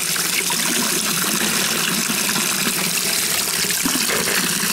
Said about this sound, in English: This is mountain water, fresh mountain water.